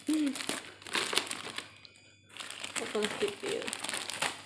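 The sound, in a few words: crinkling plastic packaging being unwrapped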